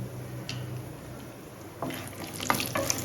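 About 25 grams of almonds frying in melted ghee give a soft, steady sizzle close by, with a few scraping stirs and clicks toward the end.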